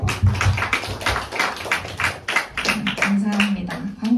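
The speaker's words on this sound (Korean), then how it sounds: "목사님께 박수 한번 치자요" Scattered clapping from a youth worship congregation thanking the pastor after a sermon, uneven claps of moderate loudness with talk running underneath.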